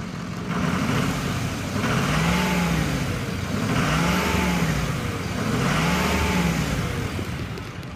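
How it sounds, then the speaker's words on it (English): A 2005 Ford E450 Super Duty engine runs at steady idle, loud and close, with its broad rumble swelling in three or four brief revs at regular intervals and no voices. "Let's go ahead and listen to the engine."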